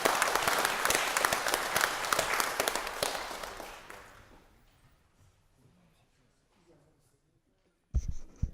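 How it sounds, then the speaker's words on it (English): Audience members at a Pittsburgh city council meeting give a round of applause, loud dense clapping that fades away over several seconds, followed by quiet and then a brief burst of sound. "let's give these ladies a round of applause"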